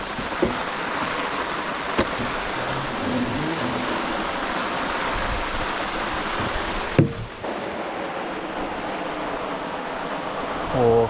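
Steady rain pours during an evening prawn-fishing trip at Mawai, a dense continuous hiss with a few knocks and splashes, briefly dropping and shifting near the end.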